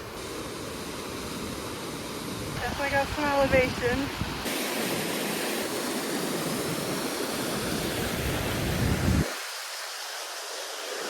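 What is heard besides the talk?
waterfall in Switzerland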